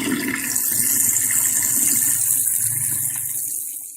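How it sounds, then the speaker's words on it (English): Fresh water gushes steadily into a bucket for a homemade washing machine rinse, a loud, close, continuous rushing pour that tapers off at the end, with no voices. "now we're going to fill up our bucket with fresh water"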